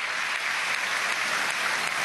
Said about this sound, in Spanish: Un aplauso al constituyente Eduardo Murachí Piñate